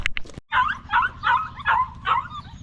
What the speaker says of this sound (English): It's okay, puppies. They want attention so bad. I'll go away so they stop crying.